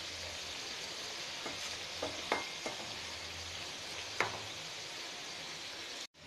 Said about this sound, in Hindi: इसे चारों तरफ से लाइट गोल्डन ब्राउन होने तक तल लेते हैं अच्छी तरह से